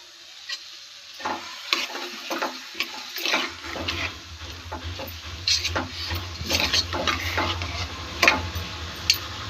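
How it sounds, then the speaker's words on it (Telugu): Chopped tomatoes tipped into simmering Telangana-style pesara pappu (moong dal) and stirred, giving wet squelching stirs and a soft sizzle that settles into a steady low bubbling hum, close by with no talking. "ఇప్పుడు మనం ముందుగా కట్ చేసుకున్న టమాటాలు కూడా వేసేయాలండి"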